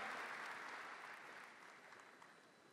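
Audience applause at the Zlatna Bubamara 2023 awards ceremony, a steady wash of many hands clapping that starts full and gradually thins and softens, with no voices over it.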